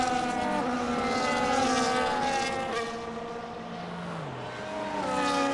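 A Formula One safety car engine in a racing video game at the Netherlands round, steady and droning with smooth rising and falling pitch as it shifts gears, loud and continuous with no talking.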